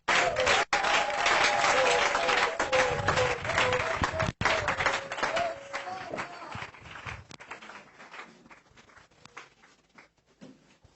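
A church congregation claps loudly and steadily, with voices mixed in. The applause then thins into scattered claps and fades out toward the end.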